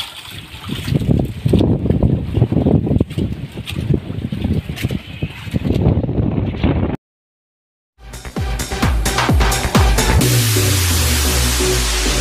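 Strong northeast monsoon wind gusting over a small boat at sea, heavy buffeting rumbles and splashing water, a sudden break in the sound, then creaking and rushing wind resuming loudly.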